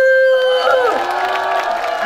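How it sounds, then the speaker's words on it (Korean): Crowd cheering and shouting at an outdoor song festival at Incheon's Yeonan Pier marine plaza, loud and close, following a sustained tone, with voices whooping over the noise and no distinct clapping. "자, 박수! 다 같이! 박수!"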